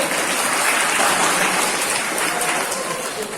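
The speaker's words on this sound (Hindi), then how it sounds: "एक बार 2 ताली बजा दीजिए सिर्फ इन 3 लोगों के लिए" College seminar audience applauding for three students, a dense continuous patter of many hands clapping at once, fairly loud and slowly fading toward the end.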